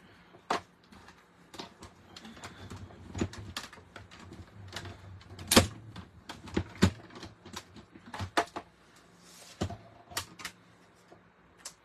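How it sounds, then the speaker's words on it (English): Paper being cut into a circle with scissors for a card, a series of close, sharp snips and crisp rustles in an irregular rhythm, with quieter handling between cuts and no talk. "that large circle and then the next largest circle right in the middle and cut that out."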